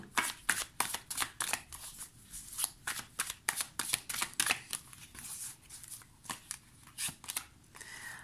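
Tarot cards are shuffled by hand in a steady run of crisp, close riffles and slaps, repeating roughly every half second, with no talk over them.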